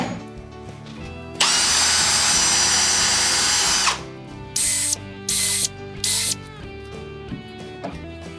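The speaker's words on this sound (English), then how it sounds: "these 4 holes are where I'm gonna pre-drill for my fasteners" A power drill whirs loudly in one long sustained run pre-drilling fastener holes for a Trex Signature rod rail system, then three short bursts follow, each stopping and starting against a quiet workshop background.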